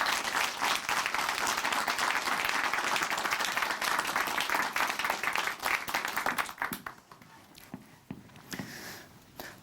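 Church audience applauding to welcome a speaker to the stage, loud sustained clapping from many hands that thins into scattered claps and dies down toward the end.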